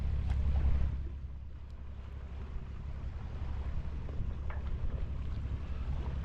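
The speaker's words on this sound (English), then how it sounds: "So it looks like Ian's fired up his motor." A boat motor runs at a distance behind a moving boat, a low steady rumble mixed with wind buffeting and water noise, fairly faint and continuous.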